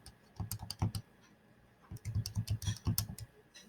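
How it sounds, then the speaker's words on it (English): Number entry on a calculator or computer keyboard: two quick bursts of crisp, close key clicks separated by a short pause, with no voices. "And now all I'm going to do is type this in."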